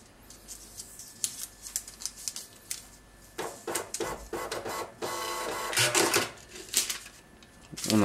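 A cash register's receipt printer runs off a shift-opening receipt, its buzzing bursts of printing close by and fairly loud, repeating in short runs over about eight seconds with no talking.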